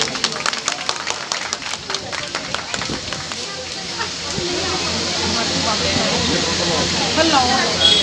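An audience at a bhajan event in a Krishna temple breaks into sustained applause that swells and holds, following someone talking over a microphone.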